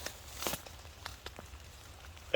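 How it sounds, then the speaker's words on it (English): Light rain pattering on a mountainside camp, soft irregular drops tapping on a nearby surface with a few sharper taps, no voices. "Another one of those beautiful, just relaxing days listening to the rain."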